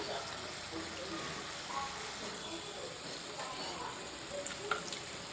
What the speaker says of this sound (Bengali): মাছের তেল ঝালের ঝোলটা দেখুন খুব ভালোভাবে ফুটে গেছে